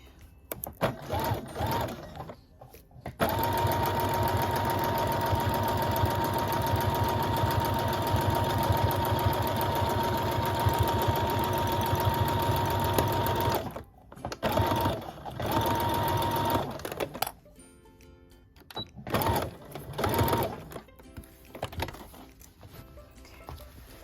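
A sewing machine stitches an upcycled lingerie zipper pouch in a long, steady, loud whirring run, then several shorter bursts separated by brief pauses and handling sounds, with no talking.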